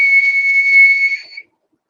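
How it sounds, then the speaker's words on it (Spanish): A person whistles a single steady, pure tone, clear and loud for over a second before it wavers and cuts off, leaving silence. "el silbido es aquello que es capaz de producir el humano más cercano a una onda periódica simple, como un tono puro"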